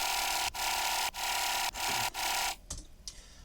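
Several layered Serum synth laser presets sound together as a bright, sustained buzzy tone, cut by short gaps at regular intervals, then breaking into scattered zaps and fading tails at the end.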